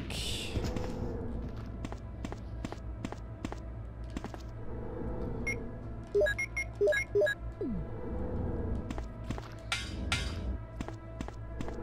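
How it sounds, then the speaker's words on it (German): High heels clicking on metal grating in the Resident Evil video game, a quick, regular run of sharp metallic steps over a low game hum, with a few brief electronic beeps in the middle. "Mit ihren High Heels übers Gitter. Klick, klick."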